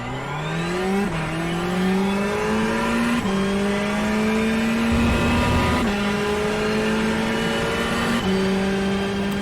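A Ferrari Challenge race car at speed on the Homestead track, its engine screaming steadily near and loud through rising gears, with sharp upshifts breaking the tone every couple of seconds.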